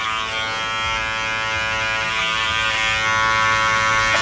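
Electric hair clippers buzz steadily and close up while trimming a man's beard and working around the ears, a continuous even whine with no talk over it.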